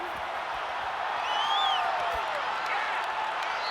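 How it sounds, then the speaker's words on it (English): Stadium crowd in Madden 22 applauding and cheering, a steady roar of broad noise held throughout at moderate level, swelling slightly in the middle, with a faint whistle-like cry rising above it. "It's worthy of some applause."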